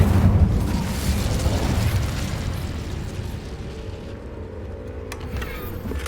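An Incendio fire spell goes off in Hogwarts Legacy with a loud, roaring blast of flame. It holds steady for several seconds, then slowly eases off, with a faint crackle near the end.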